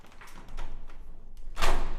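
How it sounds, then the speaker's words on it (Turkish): A stiff door to a terrace in a stone villa is forced open, with muffled thumps and rattling building to a louder thud and scrape near the end. "Biraz kapı zor açılıyor."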